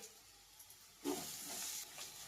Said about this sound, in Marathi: 1 चम्मच अद्रक लसूण पेस्ट ऍड करते मी याच्यामध्ये आणि 1 मिनिटासाठी असं फ्राय करणार आहे